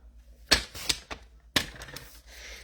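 Cardstock being cut to size for two handmade cards, giving a few crisp, close clicks and snapping cuts spaced irregularly over a quiet background.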